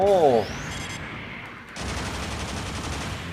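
Missiles launch from a mobile suit's chest in a Gundam video game. Rising whooshing tones are followed by a loud, sustained rumble of blasts and gunfire-like bursts.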